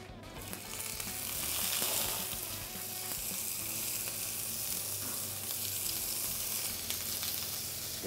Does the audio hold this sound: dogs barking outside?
no